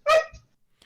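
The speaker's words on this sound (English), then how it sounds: "That was my dog." A single short dog bark or yelp, close and loud, followed by a faint trailing sound.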